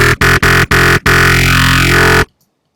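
A synth growl bass shaped by a vowel filter plugin, a loud buzzing tone chopped by short gaps and then held with a sweeping, vowel-like wobble before cutting to silence.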